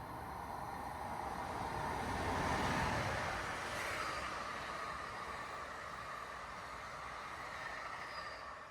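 A commuter train rides toward New York City with a continuous low rumble and rushing hiss from the carriage, swelling slightly in the middle and staying steady and moderately distant, with no speech.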